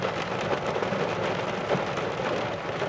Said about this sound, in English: Since we're waiting for the rain to subside